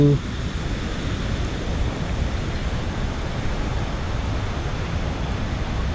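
Khone Phapheng waterfall in southern Laos roars as a dense, steady rush of water, loud and unbroken across the whole stretch.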